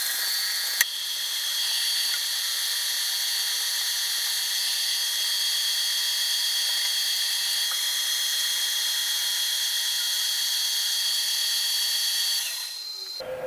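Milling machine cutting off the end of a steel slide bar or crosshead part for a 7 1/4 inch gauge steam locomotive build, a steady high tonal whine with a constant cutting hiss, close and uninterrupted for several seconds.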